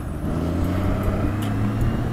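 A Honda Goldwing F6B motorcycle on a Sunday ride, with a steady low engine drone and wind rush that runs continuously and close throughout, without any talking.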